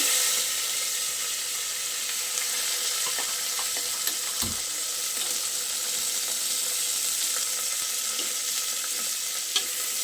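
Onions and curry leaves fry in a pan with a steady, even sizzle throughout, broken by a few soft taps of a spoon against the metal.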